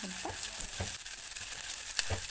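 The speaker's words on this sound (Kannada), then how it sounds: "ಸ್ವಲ್ಪ ನೀಟಾಗಿ ಫ್ರೈ ಮಾಡ್ಕೋಬೇಕು ಈರುಳ್ಳಿನ" Onions frying with curry leaves in a pan, a steady close sizzle with a few soft stirring scrapes and clicks of a spoon, fairly quiet.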